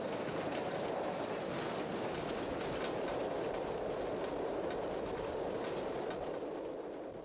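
Britannia class steam locomotive running on the main line, a steady loud rumble with continuous rail noise and faint clickety-clack throughout, no voices.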